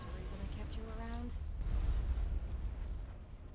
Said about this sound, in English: The Colossus is down! The bigger they are, the bigger their explosion.